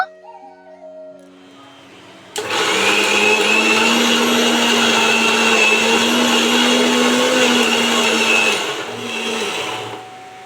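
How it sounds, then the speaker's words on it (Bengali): Electric blender grinding bottle gourd leaves, green chillies and garlic cloves with water into a paste, a loud steady whirring drone that starts abruptly after a quiet moment and cuts off near the end, then a brief lower whir. "এই দেখো দুটো কাঁচা লঙ্কা আর রসুনের কোয়া দিয়ে দিয়েছি এবার খুব ভালো করে পেস্ট করে নেব"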